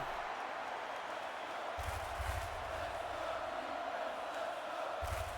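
Stadium crowd cheering on the defense during a football game: a distant, continuous roar of many voices with brief swells, steady and fairly faint throughout.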